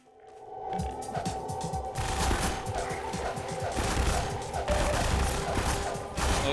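A large weapon fires rapidly in Half-Life 2, a fast, dense stream of loud gunfire with crashing impacts and blasts. The noise stays continuous and heavy across the whole stretch.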